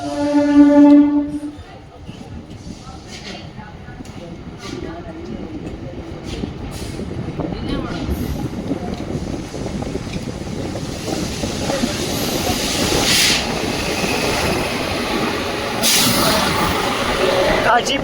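The Siddaganga Express with ICF coaches pulls into a station, opening with a horn blast before a rising rumble and hiss of rolling coaches, while a voice talks over it.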